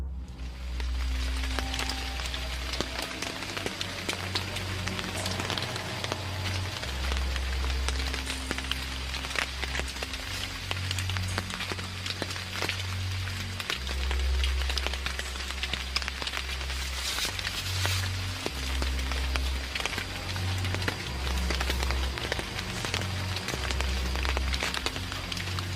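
Steady rain pours down in a dense, unbroken hiss with a low rumbling hum beneath it, continuous and fairly loud throughout, with no voices.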